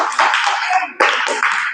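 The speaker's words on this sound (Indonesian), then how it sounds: "tepuk tangan untuk kelompok 4" A classroom group claps briefly for a student team in two short bursts of close, bright applause.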